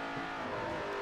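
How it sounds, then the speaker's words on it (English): A Holden V8 race car in Forza Motorsport 4 roars with a loud, steady engine drone, held at high revs in a continuous, unbroken burst with no talking over it. "Loud Holden V8, love it."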